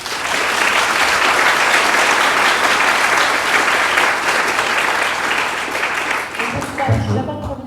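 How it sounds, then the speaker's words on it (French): Sustained audience applause at a French film premiere screening of a documentary, loud and dense for about six seconds, then thinning as a voice starts talking near the end. "qu'on peut applaudir"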